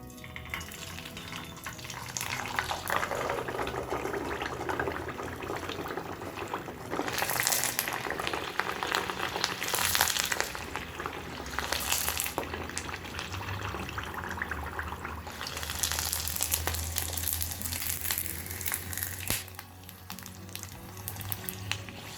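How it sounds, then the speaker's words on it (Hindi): Sabudana (sago) papad fries in smoking hot oil over a medium flame, giving a steady, loud sizzle and bubbling crackle that swells and eases throughout, with no talk. "तो ये साबूदाना का पापड़ अब हम फ्राई करके देखते हैं।"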